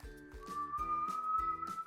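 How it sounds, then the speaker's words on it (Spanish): A person whistles a short tune with a clear, steady tone, faint and close, with soft breathy bursts between notes. "Ahora hace el movimiento del silbido."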